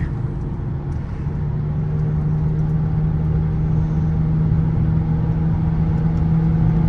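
A 28-year-old Lexus car gathers speed toward 80 on a parkway, its engine giving a steady mid-pitched hum and drone, with road and tire rumble heard from inside the cabin and no talking.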